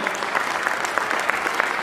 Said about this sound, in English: A round of applause for the honest gentleman over there.